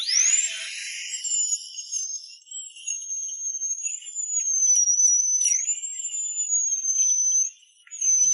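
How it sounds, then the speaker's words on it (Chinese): A dentist's drill whirs as it grinds decay from a cavity between the two front teeth, a sustained high-pitched whine that wavers slightly in pitch, close and loud, briefly dipping near the end. "医生看了一眼，二话没说，连麻药都没打，直接上钻头先把腐质去掉"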